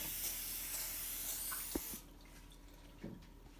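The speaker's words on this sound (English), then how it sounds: "So you're going to want to spray your glass baking pan" Cooking spray sprayed onto a glass baking pan makes a faint, steady hiss lasting about two seconds before stopping, followed by a few soft clicks and taps; no talking.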